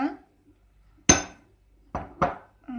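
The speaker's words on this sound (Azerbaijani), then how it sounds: "qənd tozunu qarışdırıram" Powdered sugar and butter are stirred in a bowl for cookie dough, heard as a few sharp clinks and knocks of a utensil against the bowl with quiet gaps between.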